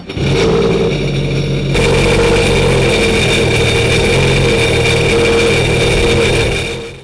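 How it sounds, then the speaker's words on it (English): A jet ski engine fires up and settles into a loud, steady mid-pitched running drone close by, with a brief change in tone early on as it catches. "if we hit it again, it's going to start that engine"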